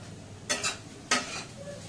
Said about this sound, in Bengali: পেঁয়াজ গাজর আলু দিয়ে পোহা বানাচ্ছি, আমি আর মা খাবো।